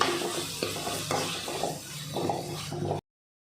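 Tomatoes cooking down for chicken curry sizzle steadily in a pan while a spoon stirs and scrapes in repeated strokes, close and moderately loud, with no one speaking, before cutting to silence.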